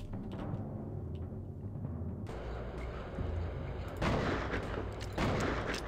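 Gunfire in the Outlaws video game crackles as a steady barrage of muffled shots over a dense background, with heavier bursts growing louder toward the end.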